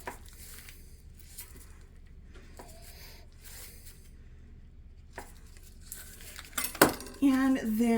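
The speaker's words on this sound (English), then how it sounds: "take your half a stick of butter and chop it, well, slice it up into 6 or 8 pieces" A knife cuts half a stick of butter into six to eight pieces for a double-crusted blackberry cobbler topping. Quiet, sparse taps and soft clinks of the blade come up close, ending in a louder clatter of utensils.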